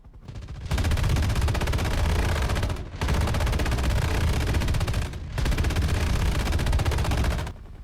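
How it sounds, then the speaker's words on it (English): Enemy gunfire through the trees in War Thunder, aimed at a SEAD helicopter: three long, loud bursts of rapid automatic fire separated by brief pauses, dense and sustained. "He's firing through the trees."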